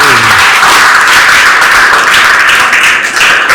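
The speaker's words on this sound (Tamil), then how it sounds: "இப்ப கைத்தட்டினா பத்தாது" Dense applause from a crowd of children, steady and loud, with many hands clapping at once and no pauses.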